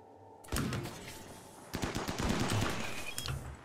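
Colonist firing a gun in the Rimworld extreme-desert game, two short bursts of rapid gunfire that sound fairly close and loud against a quiet backdrop, with no talk.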